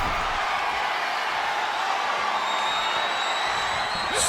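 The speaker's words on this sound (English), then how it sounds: "However you feel about Seth Rollins, he knows how to get the crowd going." A wrestling arena crowd at a Monday Night Raw show sends up a loud, steady roar of cheering that holds unbroken from start to finish, with no voices standing out.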